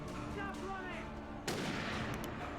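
Video game gunfire: a muffled background rumble, then a sharper, louder burst of shots partway through, heard faintly under a quiet game ambience.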